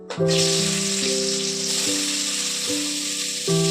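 Onions sizzle and crackle steadily in hot oil, a constant frying hiss, with a simple tonal melody stepping along in the background.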